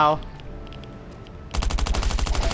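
Rapid automatic gunfire in the mobile survival shooter Last Island of Survival bursts in loud and close halfway through, a dense rattling stream of shots following a quieter stretch with a brief voice at the start.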